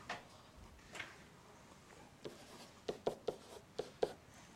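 Chalk or marker writing out a math integral on a board, starting with soft scratchy strokes and then a series of sharp taps and quick marks near the end, close and fairly quiet with no talk.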